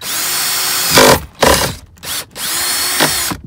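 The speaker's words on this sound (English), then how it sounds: "I'm gonna drill a hole coming into here" A power drill with a 5/16 bit bores a hole in car interior plastic, loud whining bursts broken by short pauses as the bit bites through, close up with no talk.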